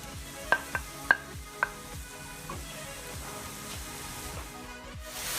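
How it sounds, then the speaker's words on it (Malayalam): Chopped onions frying in oil in a pan, a steady low sizzle with a few sharp spatula knocks early on, then gentler stirring scrapes. "എണ്ണയിലേക്ക് മുറിച്ചിട്ട ഉള്ളി ഇട്ട് കൊടുക്കുക. ഇത് നന്നായി ഇളക്കണം."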